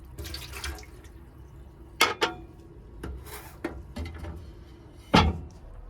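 Water runs from a mixer tap into a small camper van sink, with splashing and clinking of a cup being rinsed, in short bursts and knocks close by.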